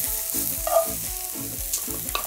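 Hoisin tofu with broccoli and spinach sizzles steadily in a pan, with rhythmic stirring strokes and scrapes repeating about twice a second, close and fairly loud.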